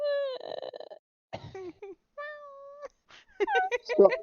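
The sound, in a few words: person imitating cat noises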